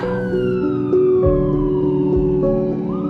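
An ambulance siren wails loudly and steadily for a few seconds, with repeated sweeping tones close by and no talking.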